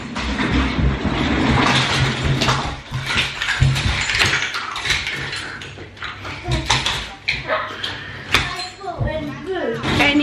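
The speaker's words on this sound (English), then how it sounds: "I don't know if you can hear me over Chase's trolley on the floor" A child's toy trolley rolls across a home floor, making a continuous rattling, clattering rumble that swells and fades while voices sound faintly in the background.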